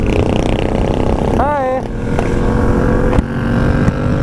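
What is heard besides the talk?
motorcycle exhaust backfiring with loud bangs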